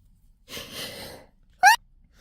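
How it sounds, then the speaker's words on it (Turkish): An allergy sneeze, close and fairly loud: a breathy intake of about half a second is followed by a single sharp burst, then silence. "Alerjim olduğu için böyle hapşırıyorum."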